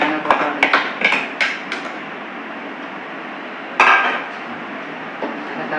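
Coconut being stirred into a pot of Tirunelveli urundai kuzhambu gives sharp metallic clinks of a spoon against the pot early on, a louder scrape near the middle, then a steady cooking hiss with occasional light taps.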